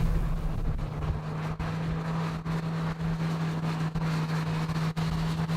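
A Hyundai Veloster's small engine drones at high revs with a steady, buzzy hum, heard from inside the car amid road and wind noise.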